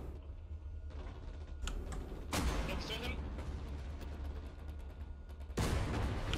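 Heavy booms from tank cannon fire in a Tiger tank video game, two loud blasts several seconds apart over a low engine rumble, with scattered clicks and a voice in the background.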